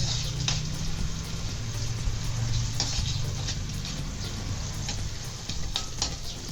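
Dried shrimp sizzle steadily in a hot pan while cabbage with tofu is being sautéed, with a few sharp ticks and clinks of stirring over the continuous frying hiss, and no voices.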